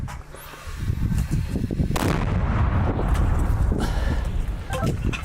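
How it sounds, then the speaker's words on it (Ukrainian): A heavy artillery gun fires with a loud boom about two seconds in, followed by rolling rumble and gusty wind noise. "Постріл!"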